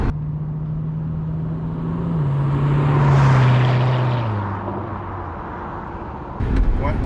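Sports car with an LT V8 accelerating past, a strong engine drone climbing then sliding lower as it sweeps by, loud and building to a peak midway before fading; no talking.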